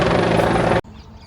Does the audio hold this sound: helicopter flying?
yes